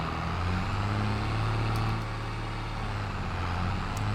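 A 1970 tractor engine in Farming Simulator 22 runs steadily, a loud, continuous low droning rumble that holds an even level throughout.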